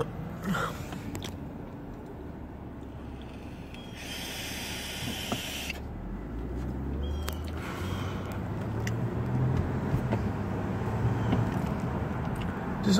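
A car is being driven, heard from inside as a steady low engine and road rumble with faint hiss, growing slightly louder over time, with a few light knocks and no talking.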